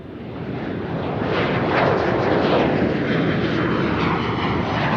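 A jet aircraft sound effect roars loudly with a broad rushing engine blast that swells in the first seconds and then holds as a sustained roar, with no voices.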